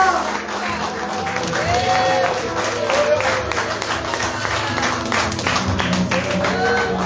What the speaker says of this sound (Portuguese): Você pode aplaudir o Senhor bem forte nessa noite